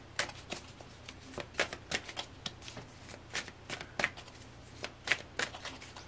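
Tarot cards are shuffled by hand at close range in a quiet room, a string of crisp riffling bursts and soft slaps repeating irregularly, faint and alone without speech.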